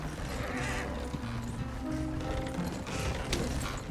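Horse galloping in the Red Dead Redemption 2 video game, a steady thudding hoofbeat rhythm with mechanical clatter, fairly close and loud throughout with no talk over it.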